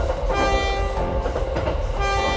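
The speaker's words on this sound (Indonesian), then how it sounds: "kereta api yang sedang berjalan melewati sawah hijau" An animated cartoon train rolls steadily past green rice fields with a loud, continuous rumble and a sustained horn-like tonal drone over it.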